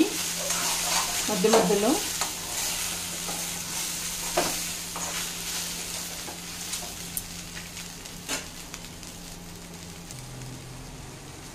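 Okra fries over a low-to-medium flame in an uncovered pan, with a soft steady sizzle broken by several sharp scrapes and clinks as a spoon stirs; a voice speaks briefly.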